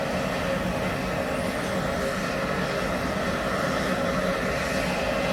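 Large aircraft engines running steadily at a ceremonial departure, a loud continuous broadband roar and whine with no pauses and no talk.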